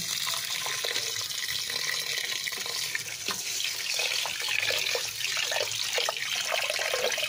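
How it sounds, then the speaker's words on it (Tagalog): Running water splashes and swishes steadily in a pot as glutinous rice is rinsed, with small clinks and sloshes throughout. "Panahugasan na natin yung ating malagkit."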